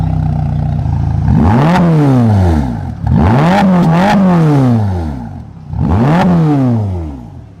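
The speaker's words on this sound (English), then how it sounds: "Still sounds like a Ferrari." A Ferrari Roma's engine revs loudly and close up in three separate blips, each pitch climbing quickly and then falling away into a lower idle between the rises.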